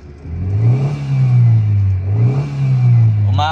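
A car engine is revved past 4,000 RPM twice in close succession, each rise swelling to a loud, close drone before easing back, with a brief voice at the end.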